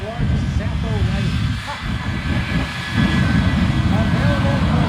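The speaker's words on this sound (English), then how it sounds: "Afterburner coming out of the 3 jet engine." A three-engine jet truck roars with its afterburners at an air show, a loud, sustained rumble that surges louder partway through, while an announcer talks over it.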